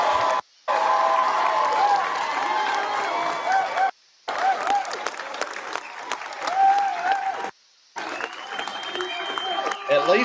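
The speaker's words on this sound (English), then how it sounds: "At least he got to have a studio audience to cheer him on." A studio audience applauds and cheers in long, dense bursts broken by three brief silent cuts, with the clapping loud and continuous throughout.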